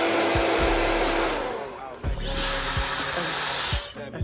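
Steady hair dryer blowing at close range, its airflow shifting as it is moved, briefly cutting out near the end.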